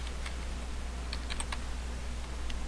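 Keys on a computer keyboard are tapped in short, irregular bursts while a command is typed into a network switch configuration, soft clicks over a steady low hum.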